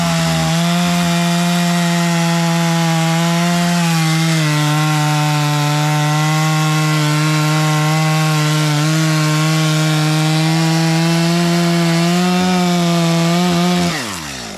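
A chainsaw cuts through resinous fat lighter pine wood, its engine holding a loud, steady high whine for about fourteen seconds before it drops off abruptly at the end.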